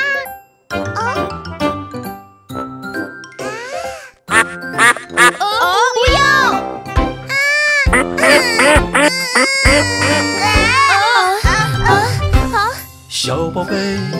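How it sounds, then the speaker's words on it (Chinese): Cartoon duck quacks in a Chinese children's song, with bright, repeated quacks over a sung melody and tinkling accompaniment. "我们是三只小鸭子。 嘎"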